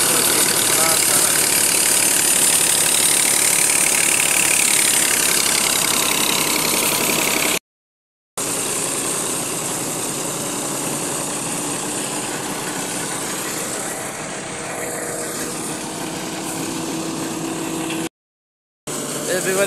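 A motor tricycle's engine running steadily after starting, a loud, rough, continuous mid-pitched drone with a knocking edge, broken by two brief dropouts.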